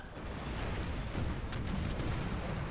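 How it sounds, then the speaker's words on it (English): Cannon fire in the Napoleon Total War video game during a cannon duel between Prussian and enemy batteries: a dense, continuous rumbling din of booms that swells slightly partway through, with no talking. "For a cannon duel."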